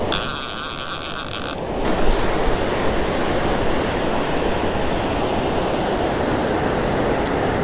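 Ocean surf at Grand Isle, Louisiana, breaks and washes steadily onto the beach during surf fishing, a loud continuous roar with wind buffeting the microphone and a brief high tone at the start.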